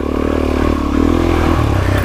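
A dirt bike on a trail loop starting up and idling close by, a loud rumbling engine with mechanical clatter and a slight rise in revs midway.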